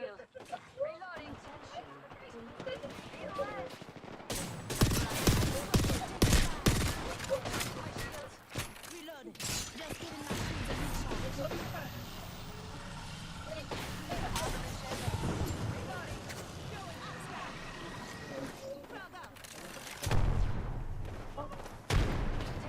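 Video game gunfire with bursts of rapid shots and heavy thumps, loud and close, interleaved with voices talking in a team match.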